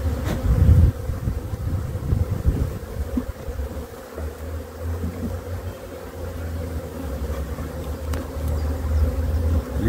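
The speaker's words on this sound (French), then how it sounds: "Il n'y a pas encore énormément d'abeilles dans les ruches." Honeybees hum at an open hive in spring, a steady, close drone with a low rumble beneath it and occasional louder passes near the start.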